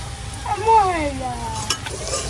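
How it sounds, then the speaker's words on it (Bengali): Raw papaya and onion fritters deep-fry in oil with a constant bubbling hiss, while a short voice-like tonal whine rises and falls over it near the start. "এই যে আমি এরকম একদম লাল লাল করে কড়া করে বাইজা নিছি"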